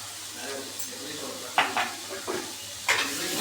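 A spoon scrapes and clinks in a pan of prawn curry, with a few sharp strokes over a soft, steady sizzle, close and moderately quiet.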